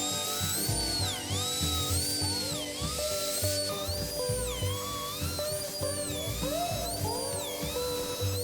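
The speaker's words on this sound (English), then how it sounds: "The best way I can deal with that is to shim it up and flatten it over on the router table." A router bit on a router table flattens a shimmed wooden block, a loud continuous high whine that wavers in pitch as the cut engages, running steadily throughout with no talking.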